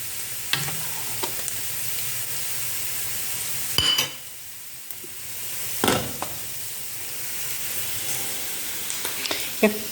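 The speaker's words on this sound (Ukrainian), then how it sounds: "зараз лучок жариться, а тут вже борщик кипить, кипить, кипить" Onions fry in a pan for Ukrainian borscht with a steady, close sizzle and hiss, broken by a few clattering stirs.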